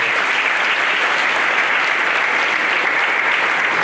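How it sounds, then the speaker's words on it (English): Steady, dense applause from a school assembly crowd, loud and continuous with no pauses and no voices on top. "Give him a warm round of applause."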